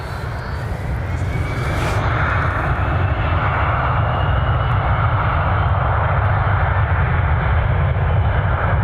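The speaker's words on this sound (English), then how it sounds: "Looks like it's that maintenance flight, the Challenger that took off 45 minutes ago. It's on its way back in." A Challenger business jet returning from a maintenance flight roars steadily at an airport, a loud, continuous, broadband engine rush that fills the whole stretch without easing.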